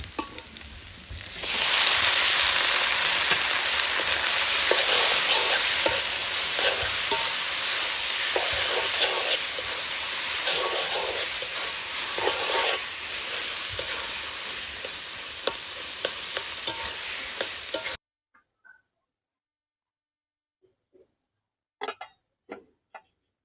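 Greens with fish are added to fried onions and stirred in a hot pan, giving a loud, continuous sizzle with stirring scrapes for about sixteen seconds. The sizzle then stops abruptly, leaving near silence and a few faint clicks.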